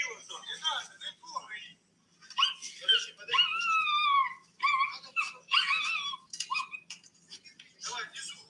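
A dog rescued from the rubble of a shelled house in Kherson whimpers and whines in high, wavering cries close by, mixed with voices talking around it.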